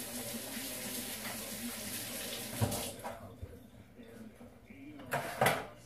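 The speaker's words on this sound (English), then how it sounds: "let me rinse my hands real quick" Running tap water pours steadily into a kitchen sink as hands are rinsed, a continuous hiss that breaks off partway, followed by a few soft knocks and splashes.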